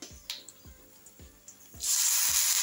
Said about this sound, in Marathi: पाणी टाकतं वरतून